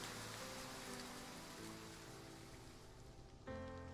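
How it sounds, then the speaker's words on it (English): A steady rain downpour hisses in the video game Love and Deepspace, a dense wash of drops heard alone at low level with a faint tonal hum running underneath. "It's common for such downpours to come quickly as they go."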